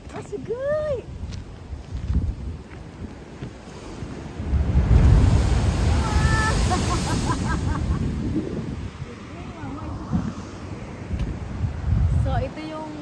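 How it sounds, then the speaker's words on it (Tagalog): Surf from the sea rolls onto the shore in slow washes, a broad rushing swell that rises and falls under light wind noise, with people talking quietly nearby and a few high bird-like calls. "Wow, ganda ng dagat."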